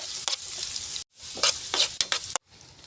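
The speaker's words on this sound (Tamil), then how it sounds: "கொஞ்சமாக எண்ணெய் ஊற்றிக்கலாம் கொஞ்சமாக வெங்காயம் கொஞ்சமாக பச்சை மிளகா நல்லா வதங்கட்டும்" Onion and green chilli sauté in a little oil, crackling sizzle broken by two brief silences, with bursts of stirring and scraping in the pan close to the listener and no speech.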